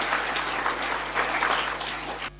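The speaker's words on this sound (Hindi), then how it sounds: "जोरदार तालियां प्रभु के लिए हो जानी चाहिए।" Church congregation at a Christmas service claps steadily and fairly loudly, a dense continuous patter of many hands with faint hum beneath, ending abruptly.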